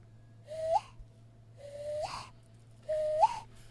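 A voice imitates an owl hoot three times, each call a breathy, rising whistle-like tone with pauses between, close and fairly soft over a faint steady hum.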